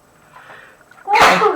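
One sharp, loud human sneeze with a brief indrawn breath before the burst, heard alone.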